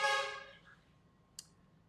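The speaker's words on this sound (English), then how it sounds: "I don't know if you could hear the horn honk" A single car horn honks on a street in Vietnam, a bright, fairly loud blast that quickly fades, followed by a faint click over low background hum.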